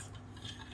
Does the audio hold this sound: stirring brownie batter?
yes